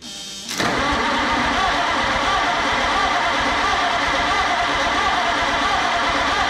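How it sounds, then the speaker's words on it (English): Engine of an old car left in a barn for 23 years, cranking over with no fuel: a faint click, then loud continuous starter churning and engine turnover from about half a second to the end, close and alone. "No gas, but we're ready to crank it over."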